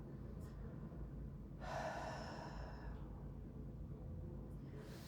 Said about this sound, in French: On prend le temps d'accueillir soupir, bâillement.